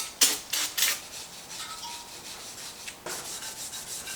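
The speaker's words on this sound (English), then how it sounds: "I'm going to have to scrape some of the old silicone out first." Close scraping of old silicone gasket material from the corners of an LS engine block during a GMT400 truck swap, a few sharp rasping strokes at first, then quieter intermittent scratching with one more firm scrape.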